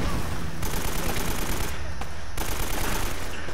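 Sustained automatic gunfire from an Uncharted firefight (The Nathan Drake Collection) rattles loud and steady, dense volleys running unbroken with brief gaps in the crackle.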